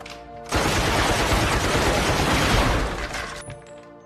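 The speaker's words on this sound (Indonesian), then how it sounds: "ia pun memakai peralatan modern yaitu Gatling Gun yang dapat melepaskan beberapa peluru dalam satu kali tembakan" Rapid, sustained Gatling gun fire in a samurai film scene, a dense loud burst of shots running about three seconds before cutting off abruptly, with a brief quieter tail afterward.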